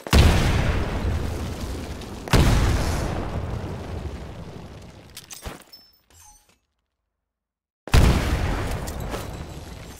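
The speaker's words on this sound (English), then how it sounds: "Throw a grenade into each of the windows." Grenade blasts going off in building windows in the video game Titanfall during training: loud close booms, one at the start and another about two seconds later, each decaying into a long rumble, then near silence before a third boom.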